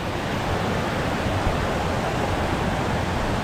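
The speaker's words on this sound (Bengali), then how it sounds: "মা কল্যাণেশ্বরী মন্দিরের একটা অন্যতম আকর্ষণ হচ্ছে এই ঝর্ণাটা।" Water from a waterfall pours over hard rock beside the Maa Kalyaneswari Temple, producing a steady, dense, even rush that stays constant throughout, with no speech.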